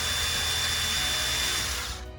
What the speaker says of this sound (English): So I'm just gonna drill a hole here.